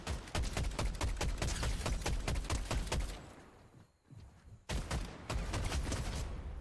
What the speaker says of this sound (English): Bitch, I got a pistol.